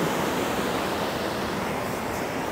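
Dry Run Creek near the Norfork River in Arkansas rushes past as a dense, constant hiss of flowing water, close and unbroken with no voices.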